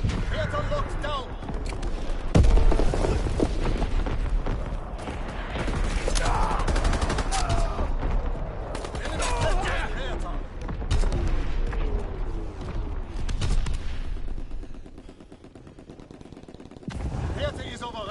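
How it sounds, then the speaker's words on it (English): Incoming enemy artillery in a war video game: heavy gunfire, machine-gun bursts and booming impacts fill the scene almost continuously, loud and close, with voices talking over the battle. "Incoming enemy artillery. Get to cover."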